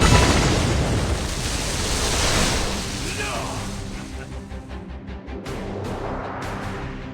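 Ship cannons firing and exploding during a naval battle in Like a Dragon: Pirate Yakuza, a loud roaring blast that decays into rumbling, followed by sharp bursts of impacts, with voices shouting in the mix.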